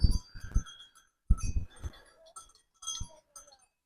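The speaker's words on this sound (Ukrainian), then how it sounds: "Тут пасуться коні, корови, вони всі з дзвониками" Small bells on grazing horses and cows clink and jingle in irregular bursts close by on a mountainside, with a few soft animal noises mixed in and quiet pauses between.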